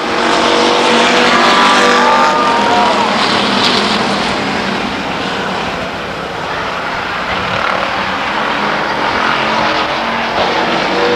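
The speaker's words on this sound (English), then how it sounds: "Perry Jefferson turns his race car around, coming off of turn 2, gathers it up, big cloud of smoke." Race cars roar around the oval at Stockton 99 Speedway, a loud, sustained engine drone that swells and fades slightly as the pack passes, with no voices over it.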